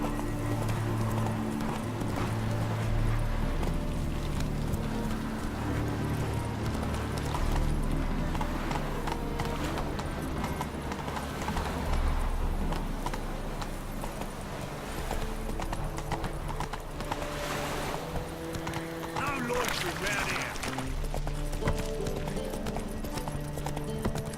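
Horse galloping in The Witcher 3, rapid rhythmic hoofbeats clopping steadily over a dense game soundscape with occasional neighs, continuous and fairly loud throughout.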